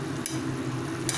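Rohu fish pieces go into a bubbling curry of cauliflower and potato, giving a steady close hiss of boiling liquid with two brief splashy bursts.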